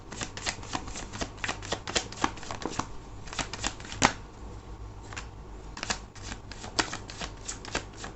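Tarot cards shuffled and drawn in a steady run of crisp, close riffling flutters and snaps, with a brief pause midway, quiet and alone without talk.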